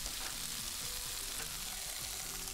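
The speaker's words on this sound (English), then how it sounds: "just let those saute up for a second more" Vegetables seasoned with kosher salt and pepper sautéing in a pan, a loud, even, continuous sizzle close by with a faint low hum beneath and no speech.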